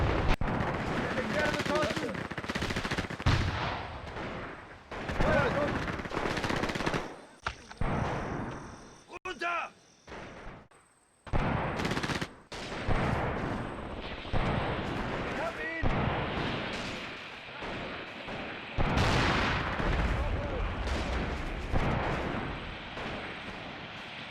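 Heavy suppression fire and an artillery barrage in the combat game Graviteam Mius, with dense bursts of gunfire and booming blasts running almost continuously, a brief lull near the middle, then more explosions.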